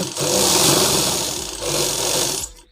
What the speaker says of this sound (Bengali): সেম ওইভাবে এখান থেকে সেলাই করে নেব